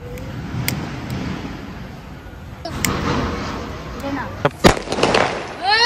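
Firecrackers bursting in a festive outdoor setting, a few sharp close bangs and crackles near the end over a background hiss, with people talking around them.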